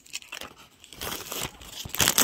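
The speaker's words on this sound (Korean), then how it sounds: "비닐 벗겨진 소리." Protective plastic film is peeled off a Sanrio acrylic stand, giving a short, close crinkling and tearing rustle that grows louder toward the end.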